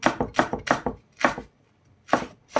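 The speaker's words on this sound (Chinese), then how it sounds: "然后给它改刀把它切成葱花" A knife chops green onion into small pieces on a cutting board, giving quick bursts of crisp close taps in groups with short pauses between.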